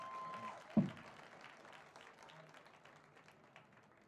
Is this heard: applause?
yes